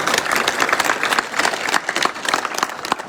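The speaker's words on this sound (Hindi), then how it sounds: "आदरणीय मगन सिंह जी राजू साहब के लिए जोरदार तालियां बनती है" A crowd at a village event in Dhingsari applauds for an honoured guest, brisk overlapping claps with a few sharper bursts rising out of the steady clatter.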